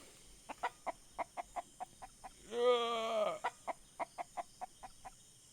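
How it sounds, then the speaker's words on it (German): In the survival video game Mist Survival, a chicken clucks in a steady series of short, evenly spaced clucks, broken midway by a longer drawn-out squawk, quiet and close over faint background hum. "Alter, das Huhn."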